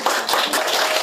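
Audience applause greeting a speaker at a 2017 Korean knowledge-communicator contest, a brief, dense burst of many hands clapping close by, steady and loud throughout with no voices.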